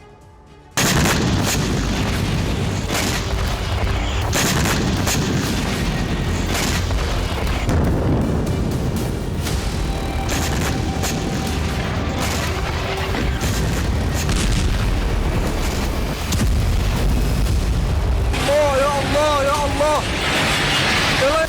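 Bombing in Lebanon heard as a dense, continuous roar of deep booms and rumbling blasts that stays loud throughout, with voices breaking in near the end.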